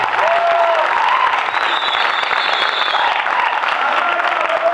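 Audience applause for a band at a live stage show, a loud, dense and steady wash of clapping from a large crowd that fills the whole stretch without a break.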